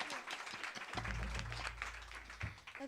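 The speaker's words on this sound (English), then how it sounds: "Can we just give another round of applause for all the people and the wonderful musicians that have performed tonight?" An audience at a GRAMMY Museum student showcase applauds the performers and musicians: steady, moderately loud clapping with a low rumbling hum beneath it for part of the stretch.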